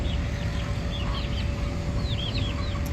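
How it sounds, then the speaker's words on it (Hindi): Soft, rising chirps and clucks from a young Turkish-breed hen, several brief calls scattered over a constant low background hum, fairly near but not loud. "ये तुर्की नस्ल की मुर्गी है,"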